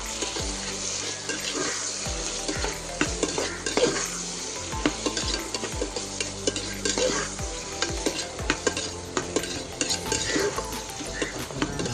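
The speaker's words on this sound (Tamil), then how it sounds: "இப்போ நம்ம தக்காளி சேர்த்துக்கலாம். தக்காளி நல்லா வதங்கி வரட்டும்." Onions, tomatoes and green chilies sauté for egg biryani, a busy nearby sizzle with rapid repeated metal scraping and clinks against the pan throughout.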